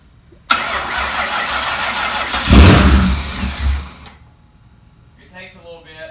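A 1000+ horsepower turbocharged 4.6-liter 2-valve V8 cranks with a sharp onset, catches and roars loudly for a few seconds, then dies away, followed by voices talking afterward.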